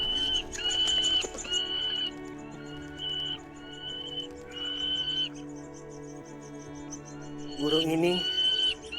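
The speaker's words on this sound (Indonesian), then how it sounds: "Burung ini semakin lama semakin bertambah banyak." Birds chirping: repeated bright, high tweets and whistled calls recurring in short bursts over a sustained tonal music-like background, fairly close.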